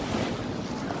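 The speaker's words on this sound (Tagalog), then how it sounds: "tingnan po yung hampas ng dagat doon, oh" Sea waves crash and surge against the shore in rainy, windy weather, a continuous rough wash of surf with wind buffeting the microphone and no voices.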